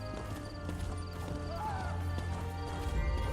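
Steady clip-clop of horse hooves while riding in The Elder Scrolls Online, a rhythmic trot over a low continuous game ambience with a brief whinny midway.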